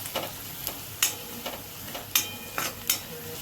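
Turmeric, Kashmiri red chilli powder and kitchen king masala sauté in a pan for a potato curry. A soft sizzle runs under regular sharp clinks and scrapes of a spoon stirring against the metal, with no talk.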